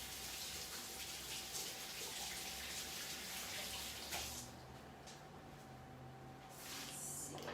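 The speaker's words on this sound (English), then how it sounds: "Rinse my hands again." Hands are rinsed under a running kitchen tap: a steady hiss of flowing water that drops to a softer trickle partway through, with no talk.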